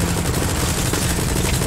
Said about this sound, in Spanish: Ese pinche helicóptero ya deja de disparar